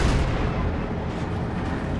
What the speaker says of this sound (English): Just rolled in and then blew up the mortar